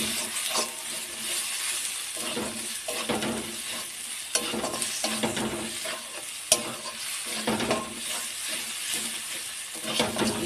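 Oil sizzles and spits steadily in a pan while spices fry for a chicken curry, with a spoon stirring and scraping now and then and a few sharp clinks against the metal, close and continuous throughout.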